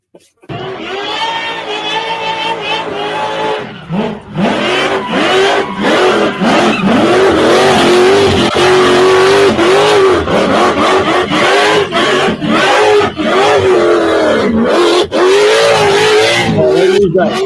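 Car engine with a loud supercharger blower, revving hard and whining through rising and falling harmonic sweeps, loud and close, with a crowd cheering and people talking throughout.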